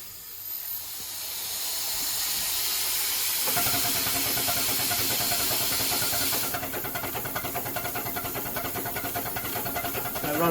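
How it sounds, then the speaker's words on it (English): A 5-inch gauge Dolgoch model steam locomotive running on compressed air at about 50 psi gives a steady loud hiss that sharpens partway through, with a faint chuffing rhythm beneath. "I've got it with compressed air, so this is only running about 50 psi"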